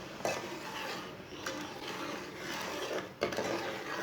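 A spoon scrapes and rubs through thickening semolina halwa in a pan, a steady, close grainy stirring with a few sharper knocks against the metal, with no talking.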